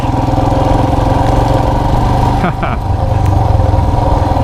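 Motorcycle engine running steadily while riding, a loud continuous low drone with a brief dip, heard from the rider's position with a helmet on.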